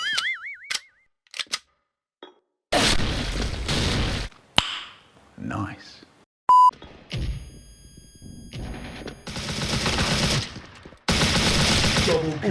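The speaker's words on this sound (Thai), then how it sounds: "ข้างหน้าเขายิงกัน" Automatic gunfire in the Special Force online shooter, heard as several loud, rapid bursts separated by short pauses, with a brief electronic tone in the middle.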